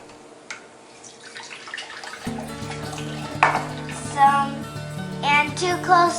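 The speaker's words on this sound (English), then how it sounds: "To the solution, we're gonna add some water," Water poured or running into a pickling solution while canning hot pickled vegetables, a steady splashing stream with brighter gushes, close by and fairly loud, with no talk over it.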